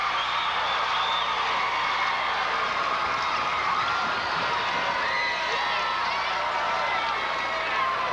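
A crowd cheers loudly in the stands at a 1999 IHSA girls Class A basketball semifinal, giving a dense, sustained roar of yelling and whooping that stays constant throughout.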